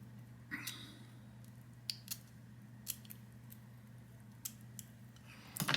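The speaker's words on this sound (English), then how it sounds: "I'm going to start to trim it back just by cutting it along that line as close as I can with these very fine scissors" Very fine scissors snip along a line, trimming brass wire parts for a model Cessna 150 wing, giving sparse, faint, sharp clicks spread irregularly over quiet background hum.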